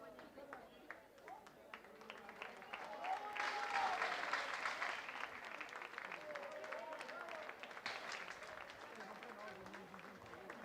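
Warm applause from a crowd and teammates at a track and field club meeting in Castellón, a steady mass of clapping that swells in the middle and holds, with a commentator talking over it.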